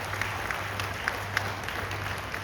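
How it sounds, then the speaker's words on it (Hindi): Brief, moderate applause from a gathered audience at a Hindu religious event at a cow shelter, scattered claps over a low hum, fairly distant and thin. "एक बार जोरदार ताली बजा करके साधुवाद करें।"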